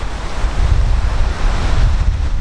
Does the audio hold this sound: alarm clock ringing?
no